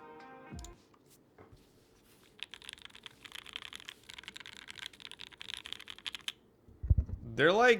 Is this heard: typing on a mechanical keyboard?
yes